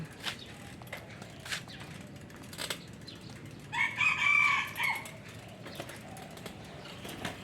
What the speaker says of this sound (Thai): ได้ยินเสียงไก่ขันไหมคะพี่น้อง